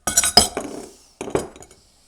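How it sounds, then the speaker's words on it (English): A strawberry shrub cocktail is strained from a shaker into a highball glass, heard as a few close, bright clinks of ice and metal against glass in two short bursts. "I strain it out into my highball glass."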